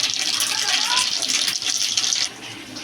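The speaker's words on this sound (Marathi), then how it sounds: "मोहरी आणि जिरं चांगलं तडतडलं आहे" Mustard seeds and cumin crackle and sizzle in hot oil as a bright, continuous hiss with quick pops, close and moderately loud, easing toward the end.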